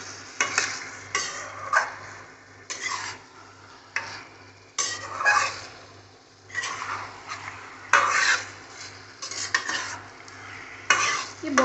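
Food is stir-roasted in a pan over a gas flame, with repeated bursts of scraping and sizzling as a spoon works the pan, separated by short quieter pauses and a low steady hum underneath.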